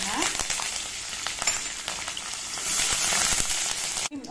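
Cumin, dried red chillies, green chillies and curry leaves hit hot oil for a vatha kulambu, a loud continuous sizzle and spatter close up that swells near the end before cutting off.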